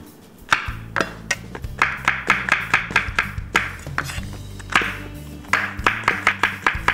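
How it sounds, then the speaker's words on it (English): A knife slicing mushrooms thinly on a cutting board: quick, steady, close chopping taps in short runs with brief pauses, no voices. "I got about 3 mushrooms, 4 mushrooms. Slice them up nice and thin."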